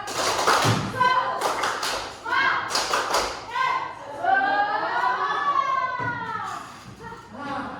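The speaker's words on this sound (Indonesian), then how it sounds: "Ayo Bapak Ibu coba tepuk semangat." A group claps out a quick rhythmic pattern, with voices joining in a chanted cheer between and after the bursts of clapping.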